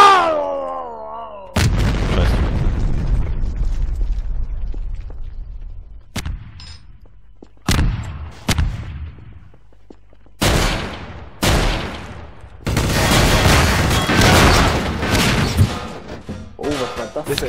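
Explosions and bursts of gunfire in the shooter game Trouble in Terrorist Town, loud blasts and rattling volleys arriving in separate bursts with quiet gaps between, plus a brief shout.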